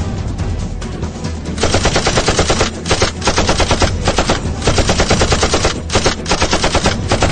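Loud, sustained machine gun fire rattles in rapid continuous bursts during a shootout in a Sindhi movie, with only brief breaks between volleys.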